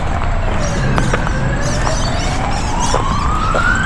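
Ambulance siren wails with a rising, sweeping tone over the constant roar of traffic on a busy road, heard from the pavement at moderate distance.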